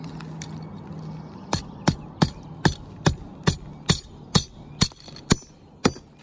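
Hammer blows drive 3.5-inch spiral shank nails into a roof truss at the peak, about a dozen sharp, evenly spaced strikes ringing out loud and close after a quieter opening.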